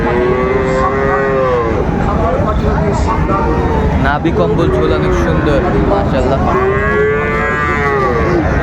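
Sahiwal bull calves moo loudly several times in long drawn calls at a busy cattle market, under constant crowd noise and nearby talk.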